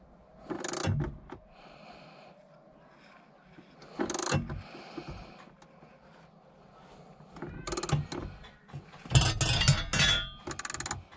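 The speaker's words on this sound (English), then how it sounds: "I'm just going to go and grab a socket and then we'll snug that down" A socket ratchet tightens a car battery hold-down on a Volvo during gearbox work, with several short bursts of rapid clicking and metallic clinks separated by quiet pauses, close by and fairly loud.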